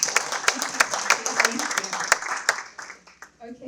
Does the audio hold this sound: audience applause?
yes